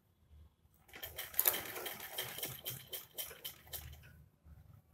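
A sewing machine stitches kurti fabric at the neckline in short rapid bursts of clattering needle strokes, close and fairly quiet, starting after a moment of near silence.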